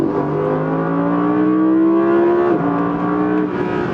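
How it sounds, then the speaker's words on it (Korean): An Audi R8 V10 Performance engine roars under kickdown acceleration, its rising whine climbing steadily, then briefly dipping at a gear change before pulling hard again, loud and close throughout. "킥다운입니다."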